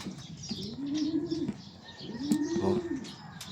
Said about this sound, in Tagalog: Ito ang dami natin pasaway ng ibon, oh.